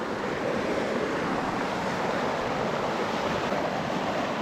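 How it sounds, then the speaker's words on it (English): Steady broadband rush of river water as someone wades across a cold river before sunrise, a constant close wash of flowing current with no voices. "we are crossing the river, and it is sun hasn't even come up yet"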